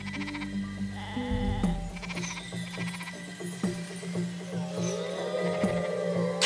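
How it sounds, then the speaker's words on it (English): Sheep in the video game DvG Conquering Giants bleat repeatedly in overlapping calls over a steady game soundscape, several animals crying close by. "Can't let them get a single sheep."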